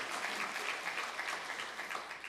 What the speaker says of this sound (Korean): 우리 살아계신 주님을 향해 영광의 박수를 올려드리겠습니다